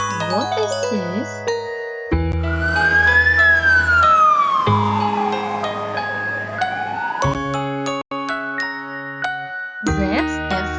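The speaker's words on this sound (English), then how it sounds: "That's a fire truck." Fire truck siren wailing loudly, a long sweep rising and then falling, with tonal horn-like blasts before and after it.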